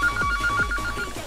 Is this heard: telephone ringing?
yes